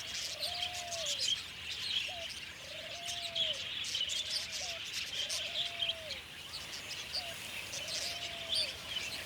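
Cockatoos or other parrots give a repeated series of rising-and-falling calls at a steady rhythm, each a short whistled arc, over a constant bed of rustling and chirping ambience.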